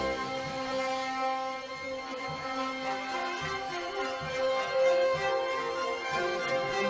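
A film theme is played on piano over a big, loud backing track, with full sustained orchestral-style chords and melody flowing steadily throughout, instrumental only.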